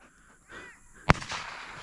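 A single loud shotgun blast fired at a dove during an opening-day dove hunt in Alabama. One sharp, close report rings out alone in an open outdoor field.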